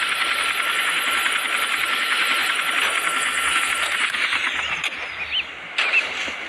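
Motorcycle engine in the video game Gangstar City, a steady, buzzing mid-pitched drone running continuously, then dipping and shifting near the end with a couple of brief spikes.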